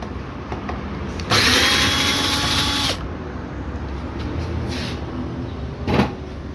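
Power drill whirring for about two seconds while unscrewing screws on a Toshiba washing machine, close and fairly loud, with a brief second burst near the end amid faint handling noise.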